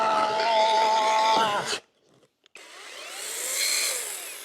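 A Masaru SCS430 chainsaw cuts through wood, its engine droning loud and steady with a strong harmonic whine, dropping out briefly before revving back up into a higher, brighter cutting roar.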